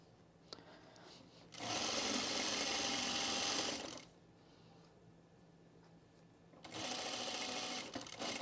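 A sewing machine stitches a quarter-inch seam on a Reynolds Top, running in two steady whirring stretches with a quieter pause between them where fabric is handled.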